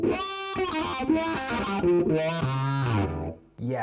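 Electric guitar through an Electro Harmonix Cock Fight with the fuzz placed before the filter: a short burst of thick, distorted notes and chords that dips briefly near the end before a final note.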